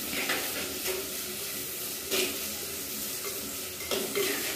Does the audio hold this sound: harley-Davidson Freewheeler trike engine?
no